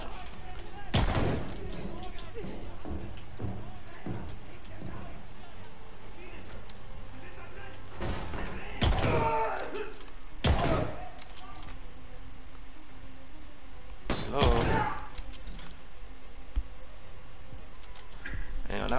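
Bursts of MP4 gunfire in the Call of Duty Vanguard campaign, several sharp volleys spaced out over a busy background of game ambience, with a player talking throughout.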